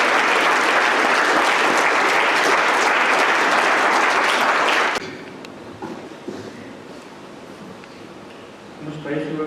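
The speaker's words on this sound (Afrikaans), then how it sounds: "julle kan vir hande klap gee." A church congregation claps for a member's birthday, dense steady applause filling the first five seconds before breaking off abruptly into a quiet room with faint rustling and a few soft knocks.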